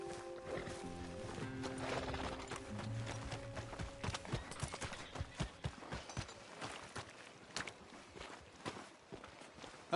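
A horse walks in Red Dead Redemption 2, with a steady clip-clop of hooves close by over a soft ambient bed, getting more distinct and rhythmic toward the end, with no talk.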